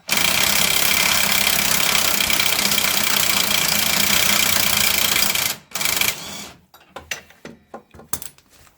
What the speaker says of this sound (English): 24 impact socket now, and I've upped the torque as well on the impact gun, so let's see if it comes out.